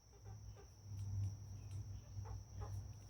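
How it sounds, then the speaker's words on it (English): Backyard rooster and hens fussing outdoors as the flock wanders off at dusk, soft low clucks and calls repeating under steady insect chirping and faint ambient hum. "Got that rooster down there just panicking because his girls are getting away."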